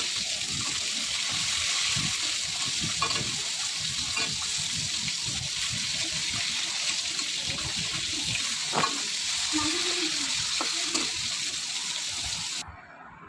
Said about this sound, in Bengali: তো মাছটা ভাজা বসিয়ে দিয়েছি